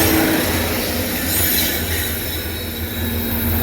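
A freight train with a distributed power unit locomotive rolls past close by, a loud continuous roar of wheels and cars with high squealing; no one speaks.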